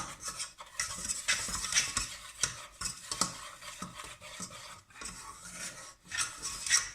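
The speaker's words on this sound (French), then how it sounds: "pour faire ce qu'on appelle un roux. Alors, vous remuez bien." Flour and butter get stirred into a roux in a pan: a close, rhythmic scraping and swishing of a utensil against the bottom, steady strokes with brief pauses and a faint sizzle, no one talking.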